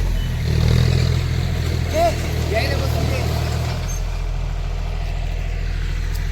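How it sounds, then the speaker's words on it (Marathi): A tractor engine rumbles in a low, steady idle close by, swelling briefly before settling to a continuous drone, with voices talking over it. "ट्रॅक्टरचा आवाज येतो आहे"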